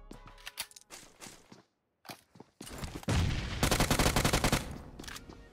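Rapid gunfire in a shooter video game: a few scattered single shots early on, then after a short pause loud, dense automatic bursts with shots close together, firing hard and continuously to the end.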